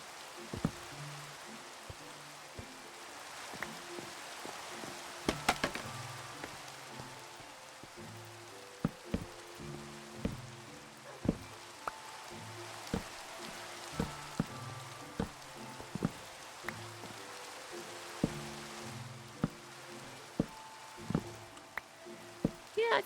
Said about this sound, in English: There comes the rain.